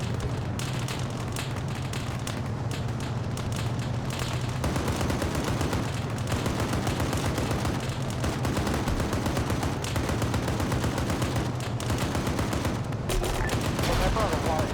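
Sustained gunfire from an engagement in a military simulation video game, dense bursts of shots crackling steadily throughout over a low engine-like drone, with a voice faintly under the fire.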